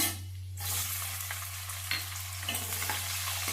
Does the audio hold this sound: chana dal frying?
yes